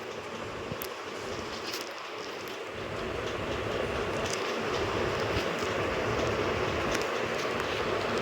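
A train runs past at a station with a steady, loud rolling roar and a rhythmic clatter of wheels over rail joints, growing louder after about three seconds and holding for the rest, with occasional sharp metallic clicks and squeals.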